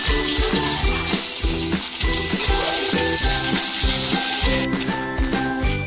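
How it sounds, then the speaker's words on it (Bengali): Carrot pieces fry in oil in a pan beside green chillies, giving a steady, close sizzle that runs through the whole stretch beneath a rhythmic, pulsing background beat. "এবার আমি গাজরটাকে ভাজতে দিচ্ছি।"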